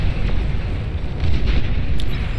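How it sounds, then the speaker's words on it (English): Advanced geothermal generator exploding in the strategy game Beyond All Reason, a sustained rumbling blast with crackling debris, loud and continuous throughout. "Advanced geothermal pops like a big balloon, showering everything around it in sparks and fire and death."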